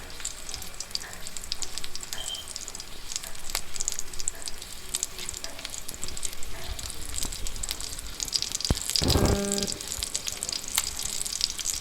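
Chicken curry masala with chopped tomatoes being stirred in a pan, a steady close sizzle with scraping spoon strokes throughout and a brief louder clatter near the end, with no talking.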